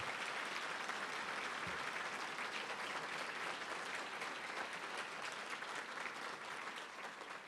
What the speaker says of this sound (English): For that alone, he deserves a round of applause.